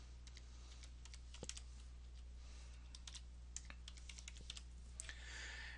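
A name typed on a computer keyboard, producing quiet, irregular key clicks in short bursts over a low steady hum, close and faint, with no one speaking.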